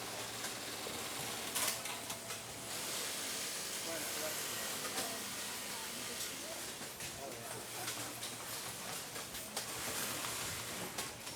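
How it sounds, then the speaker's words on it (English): Industrial walking foot and Juki sewing machines run across a busy Tactical Tailor production floor, a dense, steady wash of mechanical whirring and hiss that stays loud and continuous throughout, with indistinct voices mixed faintly into the din. "As you can see, we have a variety of machines. We have, the walkie foot, the latest Juki machines."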